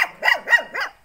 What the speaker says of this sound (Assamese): অকণমানি কুকুৰটো ভুকিছে, দেখিছেনে বাৰু?